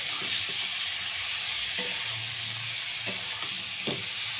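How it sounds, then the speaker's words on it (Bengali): Cauliflower pieces being stirred in a hot pan for Bengali fulkopir rosa, with a steady sizzle of frying throughout and a few soft scraping stir strokes. No voices. "এটাকে ভালো করে আপনার নাড়াতে হবে"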